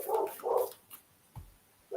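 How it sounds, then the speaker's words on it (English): Several dogs barking in the background during a home live stream: two close, sharp barks in quick succession, a softer one, then another starting at the end, with quiet gaps between. "Sorry if you can hear the dogs barking in the background there."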